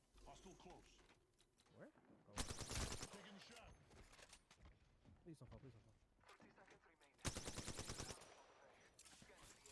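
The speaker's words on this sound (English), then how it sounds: "Right here, I should not be shooting that because I'm just wasting alternator ammo." Rapid automatic fire from an Alternator submachine gun in Apex Legends, two loud bursts standing out over a busy game mix with someone talking throughout.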